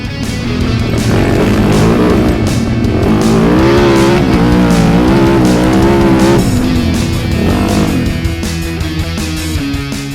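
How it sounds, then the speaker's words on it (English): Rally 450 motorcycle at full throttle during the Baja Rally, a loud, sustained engine roar with rising and falling revs across the whole stretch and no talk. "Lyndon finally hits full gas on the Rally 450 and passes it"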